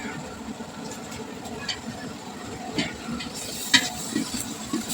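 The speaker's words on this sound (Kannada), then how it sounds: "ಶುಂಠಿ ಬೆಳ್ಳುಳ್ಳಿ ಪೇಸ್ಟು ಸ್ವಲ್ಪ ಹಸಿ ಸ್ಮೆಲ್ ಹೋಗಂಟ ಫ್ರೈ ಮಾಡ್ಕೋಬೇಕು" Ginger garlic paste fries quietly in a pan for ghee rice, a soft steady sizzle broken by a few light utensil taps, with a voice talking faintly in the background.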